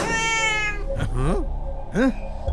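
A cat meows twice, clear, close rising-and-falling cries following a long tonal whine, with brief background talk.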